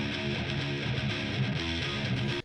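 Two complementary distorted metal guitars play together in a short, dense, loud burst of fast chugging riffs, cutting off abruptly at the end.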